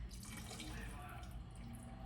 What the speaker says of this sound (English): We're gonna put a tiny bit of water in there and rinse it into our pan.